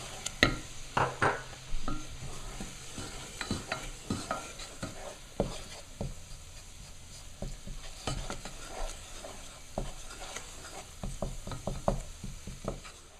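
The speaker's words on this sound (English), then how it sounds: "I'm going to stir in the 2 tablespoons of flour" Flour being stirred into a hot pan with a utensil, irregular scraping strokes against the metal over a low background sizzle, steady and close with no talking.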